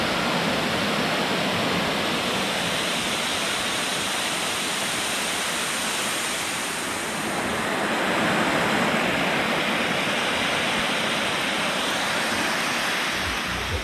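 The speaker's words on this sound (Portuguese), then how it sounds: "Mas aqui então nós na verdade temos em cima da cachoeira." Waterfall heard from the top in a rocky outdoor spot, a continuous loud rushing roar of falling water, steady and broadband throughout with no speech.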